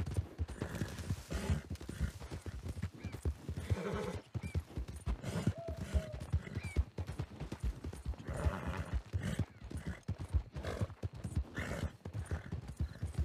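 Horse hooves clopping at a fast gallop in the Red Dead Redemption 2 Western game, a rapid continuous drumming of hoofbeats with occasional snorts, fairly quiet and steady throughout.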